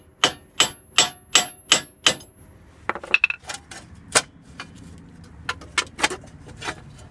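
A hammer taps the edge of a Chevy Trailblazer wheel hub bearing: six evenly spaced sharp metallic clinks up close, followed by a looser scatter of lighter taps and clatter.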